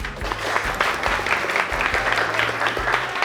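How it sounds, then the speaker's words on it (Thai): Clapping in a classroom, with a short burst of hand claps over low background noise and a low hum, briefly rising and falling. "ผู้ขอเสียงปรบมือให้ชลิดานะครับ"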